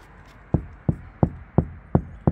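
Six light, dull knuckle knocks on a steel door panel of a Hyundai Starex van damped with a sound-deadening mat, at a steady pace, short and deadened with little ringing, close up over a faint background hiss.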